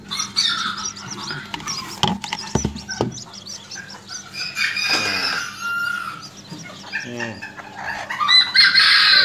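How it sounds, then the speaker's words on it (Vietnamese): Serama chickens, a mother hen with her chicks, cluck and cheep in a busy close-up, with overlapping chirps and clucks running throughout. "Lấy gà mẹ ra cho đi chơi, xong ta sẽ bỏ gà con vào."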